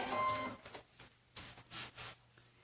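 A sewing machine backstitches while a toiletry bag is being sewn, giving a short whirring burst followed by several brief stop-start mechanical runs, close and moderately quiet.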